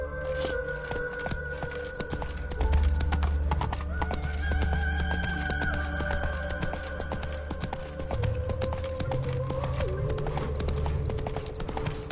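Horse hooves clip-clop steadily in the Witcher 3 video game as the horse trots along, with a neigh rising over the rhythmic footfalls and game music and ambience running underneath.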